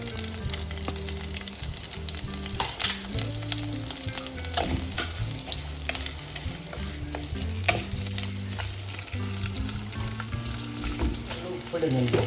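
Onions frying in about three tablespoons of hot coconut oil for crab roast, with a steady close sizzle, occasional stirring clinks and soft background noise throughout.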